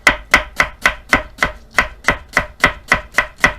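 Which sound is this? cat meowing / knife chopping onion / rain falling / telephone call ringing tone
knife chopping onion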